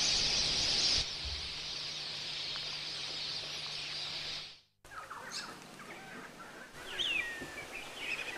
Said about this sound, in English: There must be thousands upon thousands of whistling ducks out there.